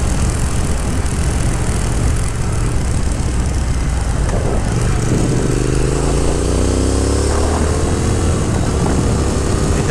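A 2022 Triumph Speed Twin motorcycle engine drones loud and close while riding out of corners on country roads, with a rising engine note under heavy wind rush and no talk.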